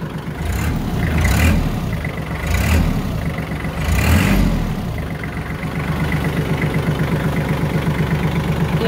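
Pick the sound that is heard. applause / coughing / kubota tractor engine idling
kubota tractor engine idling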